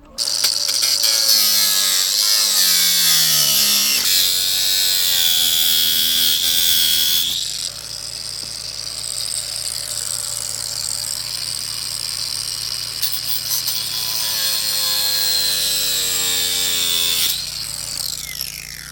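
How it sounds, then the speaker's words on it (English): An angle grinder with a regular cutting wheel cuts a jagged edge off a crushed PVC septic drain field inspection pipe, a loud high-pitched whine that rises and drops in pitch as the wheel bites into the plastic, sustained with brief changes in load. "the plan is to use the angle grinder, which is a regular cutting wheel, to cut that spiky part, that jagged part off"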